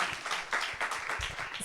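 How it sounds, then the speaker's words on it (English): A talk show studio audience claps and snaps, a dense moderate wash of hand claps with a few louder individual hits, fairly close. "You guys can clap, snap,"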